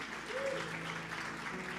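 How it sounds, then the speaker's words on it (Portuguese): A church congregation applauds during a sermon, the clapping faint and distant and lasting under two seconds. "Pode dar um forte aplauso a Jesus."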